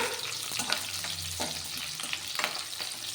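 Fresh red chillies fry in a pan, giving a close, steady crackling sizzle with a few soft scrapes of stirring and no speech.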